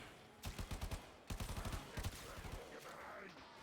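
Gunfire in the video game Warframe, with two quick rapid bursts of shots followed by a further burst, fairly faint and close, no talking.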